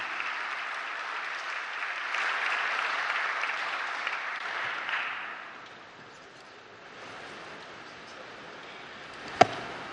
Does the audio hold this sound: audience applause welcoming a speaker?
yes